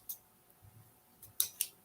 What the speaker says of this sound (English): So I'm going to cut one of these off to use.